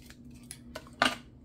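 Scissors snip the end off a vintage-style key charm, a few faint small clicks followed by one louder, crisp cut near the end, close and alone.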